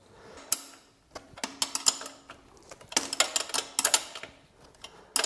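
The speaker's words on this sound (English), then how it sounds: "Insert the nut and tighten it well." Irregular bursts of close metallic clicks and ticks come from a nut being tightened onto the lower bolt of a 72V 2000W Tyranno XXL electric dirt bike during assembly. Short pauses separate the bursts, and no one speaks.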